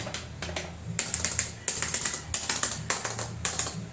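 Button clicks on an FPS EMP Beatmania IIDX rhythm game controller, rapid snappy plastic taps in quick irregular bursts, close and fairly loud, with no one talking.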